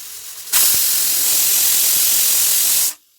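A kitchen pressure cooker vents in one loud, sustained hiss of steam lasting a couple of seconds, starting abruptly and cutting off sharply, after a quieter background.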